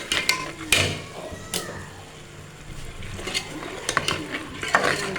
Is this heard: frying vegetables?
yes